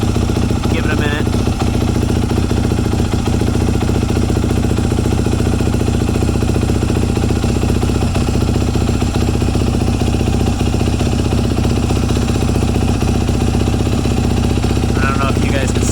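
A 2006 Yamaha YZ250F dirt bike engine runs steadily and loudly at idle, with a constant close mechanical clatter and no pauses throughout.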